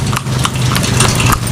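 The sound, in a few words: horse hooves clip-clopping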